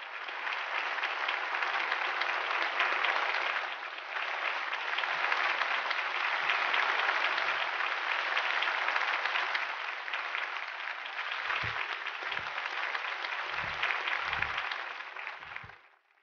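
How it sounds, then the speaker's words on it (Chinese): Sustained applause from a ceremony audience greeting a gold award winner in a sculpture competition, loud and steady for many seconds before tapering off at the end, with a few low thumps near the close. "接下来我们就恭喜我们金奖的雕刻者魏浩东上台领奖，掌声有请。"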